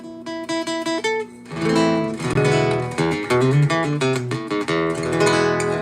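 Clean electric guitar with its tone knob fully open plays a series of bright, full-toned notes and chords, starting with single notes then strumming fuller passages.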